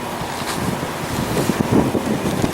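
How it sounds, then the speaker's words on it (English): Gusty wind buffets the microphone outdoors beside a railway track where rail grinding equipment is at work, a steady broadband rush with low rumbling swells throughout and no speech. "so I apologize for the wind here"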